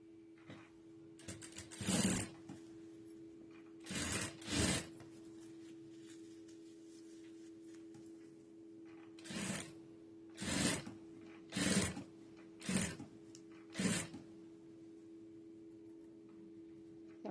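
Sewing machine stitching along the edge of thread piping: several short, loud bursts of rapid mechanical stitching separated by pauses, over a faint steady motor hum.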